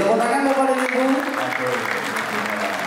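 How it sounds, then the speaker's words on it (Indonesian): Audience applause at an opening ceremony in Palembang, a steady dense wash of clapping from a crowd filling the hall, with a voice speaking over it. "Beri tepuk tangan Bapak dan Ibu."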